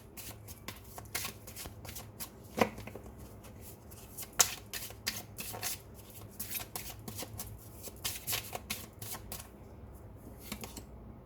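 Oracle cards being shuffled by hand during a reading, a soft, steady flutter of riffling and tapping card edges with a few sharper snaps, close by and fairly quiet, with no talking.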